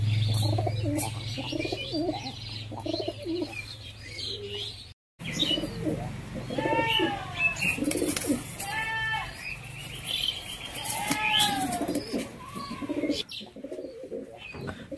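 A Shakdom breeding pair of pigeons coos nearby in repeated soft, throaty rolls, mixed with brief chirps and a dull farmyard murmur, with a short break midway.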